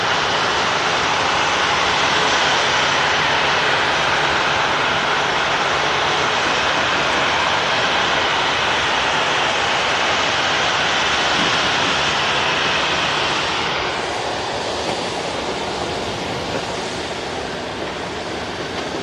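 A Qatar Airways airliner touching down at Manchester Airport, its jet engines a broad, steady roar that fills the air throughout, easing slightly near the end as the plane rolls out.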